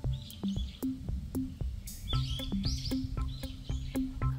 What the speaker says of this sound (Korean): 벌써 새소리가 많이 나요